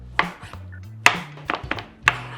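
A knife chops tomatoes finely on a board with quick, crisp thuds in an uneven rhythm, close up and clear.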